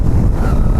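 Wind gusts buffet the microphone in the Kollimalai hills, a brief, loud, low rumbling rush with no voices.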